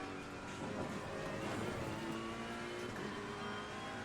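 Race car engine in Assetto Corsa Competizione, a steady loud drone with shifting revs and a reverberant, echoing quality as the sound bounces off track walls, no talking.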